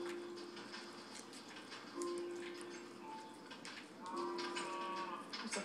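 A cow moos repeatedly in a video game, several long, low, steady calls. They sit over a busy, constant background of game noise with faint ticking.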